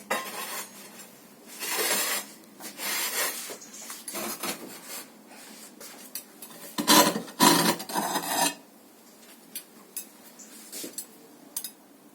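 Glazed pottery pieces being unloaded from a kiln after a glaze firing give off faint rasping, scraping and clinking sounds in quiet, uneven bursts, with a few sharper ceramic chinks.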